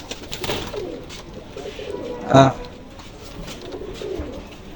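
A mated pair of red-checker golden pigeons, moulting, gives low, soft coos close by, with a sharper burst in the middle while someone talks over them.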